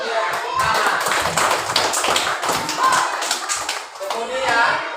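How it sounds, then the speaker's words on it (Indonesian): Children in a classroom clap their hands together in a brisk, rhythmic pattern of distinct, close claps, with young voices mixed in among the beats. "Berikan dia tepuk tangan."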